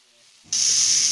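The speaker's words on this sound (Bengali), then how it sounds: "এর মধ্যে একটু গরম জল অ্যাড করে দিলাম" Hot water poured into a sizzling chickpea and potato curry sets off a sudden loud, steady hiss of steam after a half-second of near silence, close and continuous to the end.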